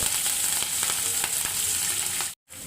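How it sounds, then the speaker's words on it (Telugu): Mustard seeds and cumin frying in a pan for a breakfast dish give a close, steady, loud sizzle with small crackles and pops throughout, cut off briefly near the end. "ఆవాలు కొంచెం జీలకర్ర వేసుకొని వేయించుకోవాలి."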